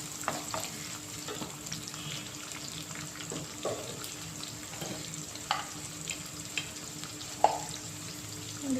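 Chopped onions and green chillies frying in hot oil in a pan for a curry, a steady close sizzle with occasional stirring scrapes and clinks.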